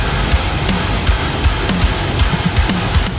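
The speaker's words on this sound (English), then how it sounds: "My mix sounds like this." Dense heavy metal mix with distorted guitars, driving drums and bass, loud and continuous with rhythmic kick and snare hits throughout.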